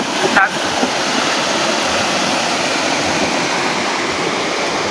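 Steady, loud rushing of flowing water fills the whole stretch without a break, broad and continuous like a swollen river.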